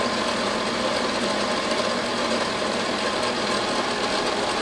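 A stand mixer churns pâte sucrée dough for a lemon tart after a little egg is added, producing a steady, unbroken motor whir with a faint rhythmic rattle and no voices.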